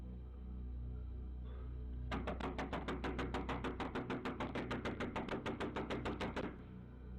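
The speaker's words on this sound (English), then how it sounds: "The woman's neighbors can be seen banging on her door, urging her to get out and move." Neighbors bang on a front door during a nearby house fire, a rapid, loud, evenly spaced series of about thirty knocks lasting four seconds, picked up on a doorbell camera over a low steady hum.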